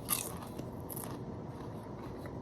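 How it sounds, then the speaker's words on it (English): A single crisp bite into a crunchy seasoned French fry, sharp crackle at the start followed by softer chewing crunches, close and quiet. "That French fry had a good crunch"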